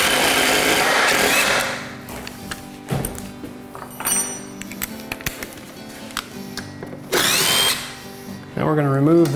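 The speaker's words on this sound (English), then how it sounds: "we're gonna drill a hole through our 1x4 where we want the doweling to go" Power drill boring a hole through a 1x4 board for doweling, loud whirring bursts that start and stop with quieter tapping and handling between them and a final rising whine at the end.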